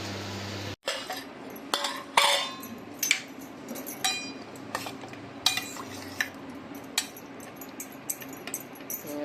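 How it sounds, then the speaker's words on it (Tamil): A knife cuts through a large bottle gourd on a kitchen board, giving a string of close, crisp chopping knocks and clinks at an irregular pace, with no talking. "ஒரு சுரக்காய் கட் பண்ணி பார்க்கலாம்."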